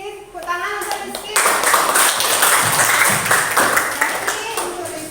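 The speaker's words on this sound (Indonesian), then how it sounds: "Tepuk tangan untuk Rizky." A classroom of students claps for a student named Rizky, a dense burst of applause that starts suddenly and continues steadily, preceded by a moment of speech.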